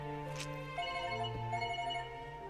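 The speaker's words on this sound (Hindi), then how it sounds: "दादा का फोन है।" A telephone rings in an action movie scene, a steady electronic ringing tone that holds through the moment over a muffled soundtrack background.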